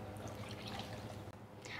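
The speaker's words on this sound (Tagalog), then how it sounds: "maglalagay na ako dito ng tubig" Water, about two cups, poured into a pot while making a gelatin dessert, a steady close splashing rush with a low hum underneath.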